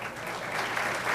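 An audience at a school board meeting applauds an art award winner, with a short, dense burst of clapping from many hands, steady and fairly close.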